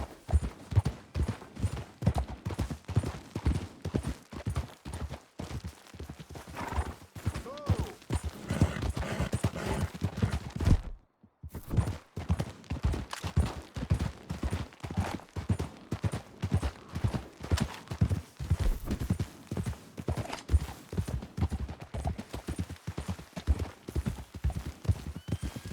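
Horse hooves clip-clop in a steady galloping rhythm while riding in Red Dead Redemption 2, loud and continuous, with a brief break partway through before the rapid hoofbeats resume.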